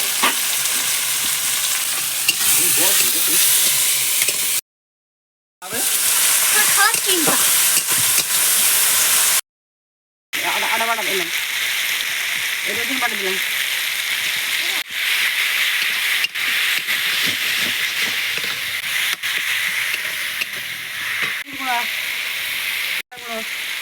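Onion, tomato and salt frying in a pan with a steady hissing sizzle and occasional stirring scrapes, interrupted by two brief silent gaps, close and moderately loud.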